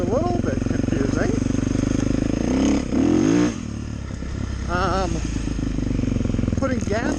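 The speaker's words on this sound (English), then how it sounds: "So far, the idle's pretty high" A 2024 Beta 450RX dirt bike engine idles high with a loud, close, steady thumping drone while a person talks over it.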